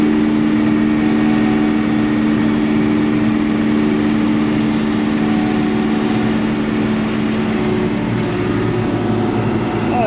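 A combine harvester engine idles steadily and loudly at close range, a constant droning hum with a sticky throttle holding it low, running unbroken throughout with no talk.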